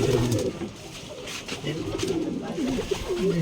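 Many pigeons coo together at a pigeon farm, a steady chorus of low, throaty, rolling calls that overlap continuously and sound fairly close.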